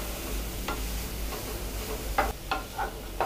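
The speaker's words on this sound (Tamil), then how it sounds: "இதை வந்து நல்லா பொன்னிறமாக வர வரைக்கும் நல்லா வதக்கணும்." Chopped onions sautéed on low flame in a pan for egg masala, a quiet steady sizzle with a few sharper spatula scrapes and taps near the end, close and fairly soft, without speech.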